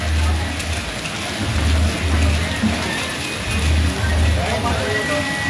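Heavy monsoon rain pours steadily over a village market town, a dense, continuous hiss filling the whole scene, with low muffled voices running beneath it.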